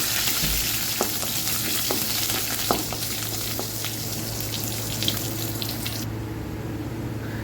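Mustard seed, red chili and curry leaf tempering hisses and sizzles close in hot oil as it is poured into a chickpea and coconut curry, a steady crackle with scattered pops and stirring clinks that cuts off near the end.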